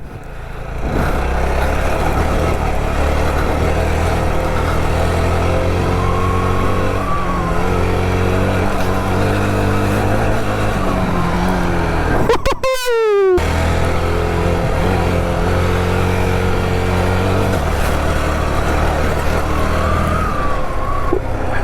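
Yezdi Scrambler 2022 motorcycle riding along, a steady loud engine drone with wind noise throughout, a brief rising whine and a short dropout near the middle, no talking.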